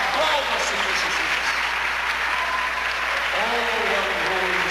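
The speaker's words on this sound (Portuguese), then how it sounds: "Aplauda, Senhor Jesus." Church congregation applauding during a worship testimony, sustained loud clapping from many people with voices and cheering mixed in throughout.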